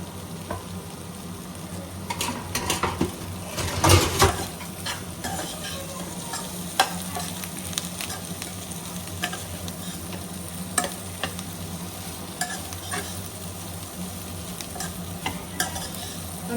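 Chicken 65 fries in a pan while being stirred, a steady close sizzle broken by repeated spatula scrapes and clinks, with a louder burst of stirring around the fourth second.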